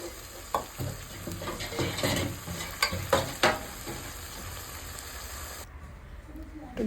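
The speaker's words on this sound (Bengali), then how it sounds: "মাছগুলো ফোটা শুরু হয়ে গেছে" Bengali-style silver carp fish curry in a pan gives a quiet, soft sizzle and bubbling, with a few sharper clinks near the start before it settles to a faint hiss.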